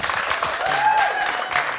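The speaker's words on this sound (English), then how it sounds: "could I hear your round of applause?" Studio audience at a live comedy show at Epic Studios in Norwich clapping in a short, fairly loud round of applause, with a whistle or cheer rising through the middle.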